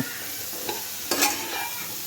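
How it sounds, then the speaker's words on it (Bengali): Cauliflower frying in a pan, a steady broadband hiss with a couple of louder stirring scrapes partway through, close and fairly quiet. "ফুলকপি একটু ভালো করেই ভাজতে হয়"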